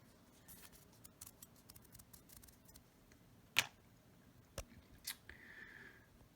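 Magnetic sigil pieces snapping onto prototype Inscryption cards: a few sharp, close clicks stand out over quiet handling rustle, with one especially crisp snap midway and two softer ones after.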